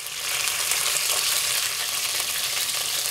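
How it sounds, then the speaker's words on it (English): Vadi fries in hot oil with a dense, even sizzle that holds steady at close range for a few seconds, with no talking over it. "Now you can see that the vadi is being fried"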